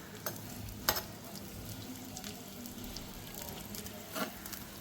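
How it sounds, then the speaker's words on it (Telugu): Puppinti leaf pieces fry in hot oil, a soft, even sizzle with a few light scrapes and taps as a spoon stirs them, quiet and close with no talk. "నూనె కాగిన దాంట్లో వేసుకోవాలి వేసుకొని మనం ఏం చేయాలంటే ఇదే గరిట స్పూన్తో కలుపుకోవాలి"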